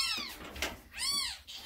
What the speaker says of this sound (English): She doesn't like it when they meow.